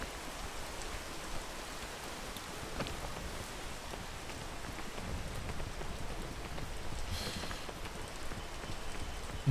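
Steady rain hiss from the video game Peak, a continuous broadband patter across the whole stretch with faint low rumbles that may be distant thunder; no talking.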